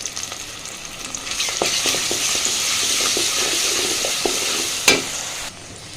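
Onion and a bay leaf fry in a pan for restaurant-style moong dal. A steady close sizzle runs throughout, broken by soft stirring scrapes and one sharp clack near the end, before the sizzle drops away.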